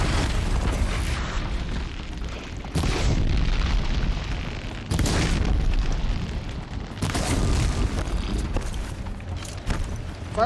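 Deep, rumbling blasts from the video game Horizon Zero Dawn, several loud, sustained explosions following one another with sharp onsets and long roaring tails, no voice.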